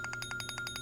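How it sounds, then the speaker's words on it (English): An alarm in a music video sounds as a rapid run of evenly pulsed electronic beeps, steady and fairly loud, layered over the music's low backing. "The alarm sound is so triggering"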